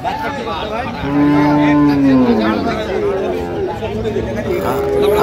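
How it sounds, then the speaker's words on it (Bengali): A dairy cow lets out a long, loud moo at close range at the Ambari cattle market in Dinajpur, followed by softer lowing, all under steady chatter and crowd babble. "গাভী বাছুর আমরা দেখছিলাম এখানে।"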